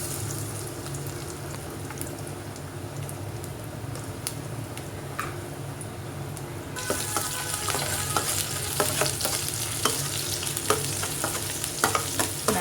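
Ginger and garlic fry in hot oil in a pan for homemade pasta, giving a steady sizzle that turns louder and crackly partway through, with occasional stirring clicks and no voices.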